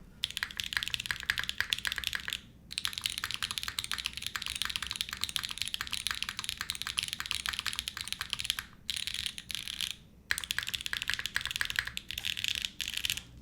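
A custom weighted mechanical keyboard, a Dream Envoy build, clacks under fast, close, continuous typing, with brief pauses near the start, in the middle and toward the end.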